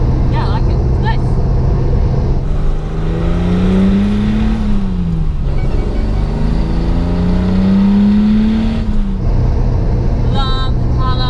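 A home-built Datsun 240Z drives along the road, its engine droning steadily and climbing in pitch through two clear accelerations with gear changes, heard from inside the car as people talk over it.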